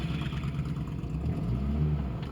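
A manual five-speed car pulls away as its clutch is slowly released, the engine giving a steady low mid-range drone with slight rising strain, heard close from inside the cabin with no talk.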